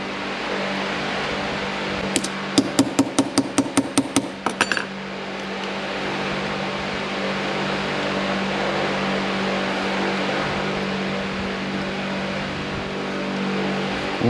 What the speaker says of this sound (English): make sure it's not pinched sideways before you continue to hammer it in